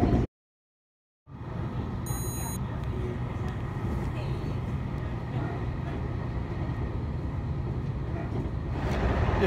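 A local train in Japan rolls along with a steady low rumble and rattle of the carriage. After a brief silent gap at the start, the noise holds even and close for the rest of the stretch.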